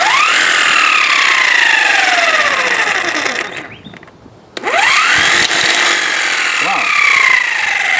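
An Olmlmo 12-volt cordless impact wrench fitted with a 22 mm socket runs at a loud, close whine with a falling pitch. It stops briefly in the middle, then starts up again and keeps going, and a voice briefly exclaims.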